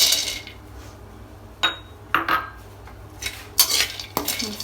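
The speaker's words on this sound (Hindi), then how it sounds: "We'll add this almonds." Almonds being stirred in leftover ghee in a pan, with a few sharp clinks and scrapes of spoon on metal over a low background hiss, close up.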